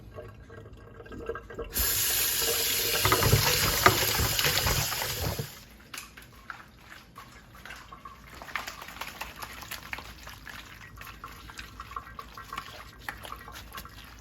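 Cold water gushes loudly from a tap for a few seconds, then stops, followed by softer splashing and rinsing sounds as chicken is washed in a sink.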